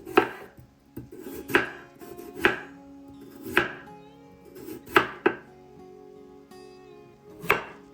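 Knife chopping through medium potatoes, cutting them into thin slices on a board: eight or so sharp, evenly spaced thunks, close and distinct, over a faint kitchen background with no voices.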